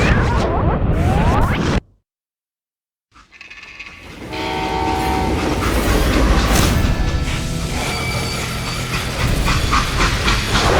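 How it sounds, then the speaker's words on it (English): A steam freight train in the Western game Call of Juarez: Gunslinger rumbles and clatters loudly, with a whistle blast, a sudden silent gap, then the heavy rolling rail noise and hissing return and carry on. "how'd they stop this train in the first place?"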